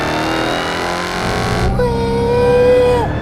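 A 2020 Dodge Charger Hellcat Widebody with a supercharged 6.2-liter V8 drones loudly and steadily, its pitch rising under acceleration before easing off near the end.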